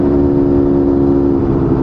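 A vintage Yamaha DT250 two-stroke motorcycle engine runs close and loud, holding a steady, buzzing drone with little change in pitch throughout.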